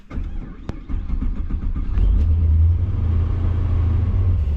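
A procharged Pontiac GTO, just out of winter storage, starts with a short cranking burst, then its engine settles into a loud, steady, deep rumbling idle close by, with no one talking.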